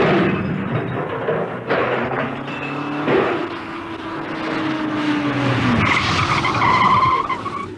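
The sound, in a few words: car skidding and going over a cliff edge, radio drama effect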